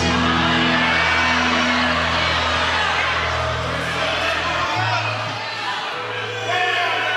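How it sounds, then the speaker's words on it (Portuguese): A church congregation shouts and whoops glory to Jesus, a loud, continuous roar of many voices that swells and stays strong for several seconds, with a steady low tone under it. "dê mais um grito de glória a Jesus"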